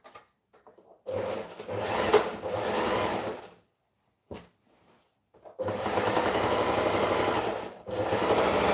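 Sewing machine stitching fabric in two sustained runs of close, rapid needle whirring, separated by pauses with soft handling clicks and a short burst between them.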